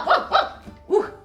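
A pet dog gives three quick barks close by, two in a fast pair and then a third after a short pause, each one sharp and fairly loud.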